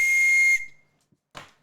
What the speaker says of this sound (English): I still have your train whistle